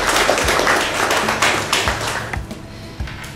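An audience at a county knowledge contest about John Paul II claps steadily in dense, close applause that fades slightly toward the end.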